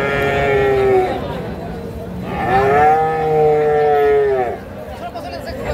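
Friesian bulls at a cattle market in Bogura bellow twice, each moo long, low and loud, with the buzz of the crowd and voices talking in the background.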